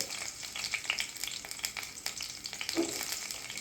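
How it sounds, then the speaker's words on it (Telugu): Chopped green chillies fry in two tablespoons of hot oil in a pan for ivy gourd chutney, giving a soft, steady crackling sizzle with light stirring, heard close and alone. "ఆయిల్ కొంచెం వేడయ్యాక ఇందాక కట్ చేసుకున్న పచ్చిమిర్చిని వేయించుకోవాలి"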